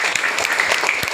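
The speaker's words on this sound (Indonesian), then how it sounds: "saya berikan lagi tepuk tangan sekali lagi" A class of students claps together indoors, a short burst of dense, steady applause with sharp hand claps close by and no talk.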